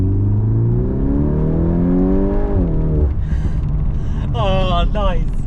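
A VW Golf R MK8.5 Black Edition engine revs up loudly, its pitch climbing through the gears before dropping off, with a rumbling exhaust beneath a person speaking near the end.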